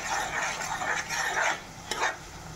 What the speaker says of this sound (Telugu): పసుపు వేసినాక ఆ ఉల్లిపాయ అంతా వేగనివ్వాలి.